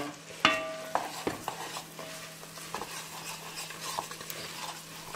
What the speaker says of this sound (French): on va faire revenir pendant 5 minutes